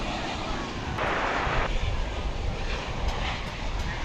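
A 32-year-old airliner on flight 948 to Los Angeles at DFW Airport gives a loud, steady jet engine roar heard from the field, with a brief harsher surge, continuous throughout.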